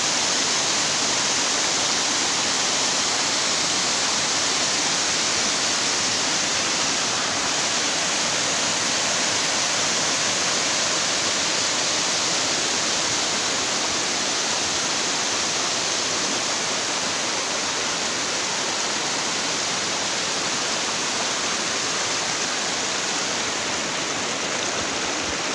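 Waterfall in Tanay, Rizal, pouring steadily as a dense, continuous broadband roar, close and unbroken for the whole stretch, with no voices over it.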